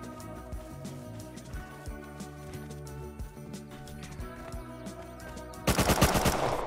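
Gunfire in the survival game Rust: a rapid, loud burst of automatic shots near the end, following a stretch of softer rhythmic in-game sounds and background music.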